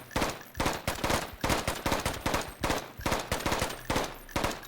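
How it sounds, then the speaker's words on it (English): An assault rifle in the game Intravenous fires in short controlled bursts, sharp rapid cracks grouped into evenly spaced volleys, loud and close with no talking. "automatic weapons, of course, we do have to make sure we're using short controlled bursts"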